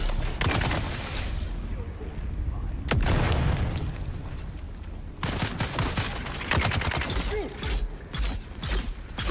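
A grenade blast and gunfire from Dune: Awakening: sharp shots and rattling bursts with a heavy boom near the middle, dense and loud, with voices talking underneath.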